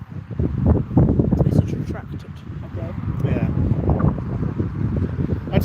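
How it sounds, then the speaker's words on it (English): Loud wind buffets the microphone outdoors at the Wheels of Wallop military vehicle meet in December, a continuous low, gusty roar with voices partly buried beneath it. "I'm afraid the wind is so loud we can't really hear you"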